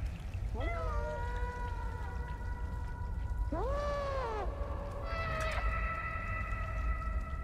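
A cat in the video game Stray gives three drawn-out meows, clear and close, over a constant hiss of rain-like ambience.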